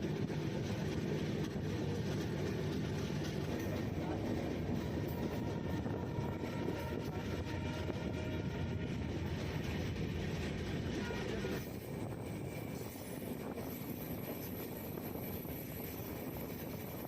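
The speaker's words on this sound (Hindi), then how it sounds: "काफ़ी देर से ट्रेन चली जा रही है" Steady rumble of a passenger express train running through hilly forest near Guwahati, a continuous rolling drone heard from inside the moving train with no speech.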